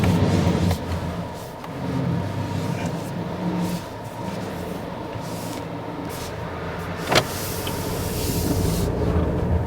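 A Honda Accord 1.5 turbo sets off driving, its steady engine and road rumble running throughout with a brief sharp knock partway; no talk.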